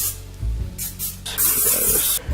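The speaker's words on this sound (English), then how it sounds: "Next, you want to spray the pan till it's spick and span." Cooking spray hisses onto a pan in several short bursts followed by one longer spray, close and fairly loud, with light clunks of the can or pan underneath.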